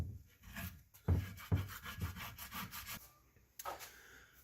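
A plastic scraper scraping old gasket material off the rear differential mating surface of a first-generation crew cab truck, a series of close, rough rasping strokes in an uneven rhythm, with no talk.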